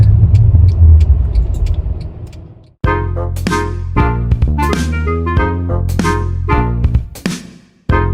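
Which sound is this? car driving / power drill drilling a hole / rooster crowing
car driving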